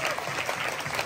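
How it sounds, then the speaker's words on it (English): Brief, soft applause from an audience for Saffron Kitchen, a short patter of clapping at moderate distance. "can we have a round of applause for Saffron Kitchen"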